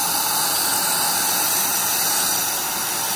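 Dyson DC21 Motorhead vacuum cleaner from 2005 running over pet hair, a loud, steady, close whooshing motor roar with a high airy whine and no talk.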